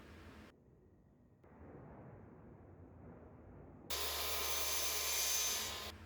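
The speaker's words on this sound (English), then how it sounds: "I take the round shaft from a screwdriver and run it along each miter to close any gaps and to ease the sharpness in each miter" A round screwdriver shaft rubbed along red oak trim miters, giving soft, close scraping and rubbing of metal on wood, shifting into a louder, brighter continuous friction near the end, quiet overall.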